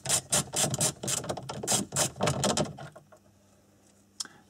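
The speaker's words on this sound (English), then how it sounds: "I've just removed the 2 outer screws from the top of the top edge of the open glove box here." Ratchet wrench clicking rapidly as bolts are backed out of an Audi A4 glove box, a run of close, quick ratcheting bursts that stops after about three seconds, followed by a single faint click.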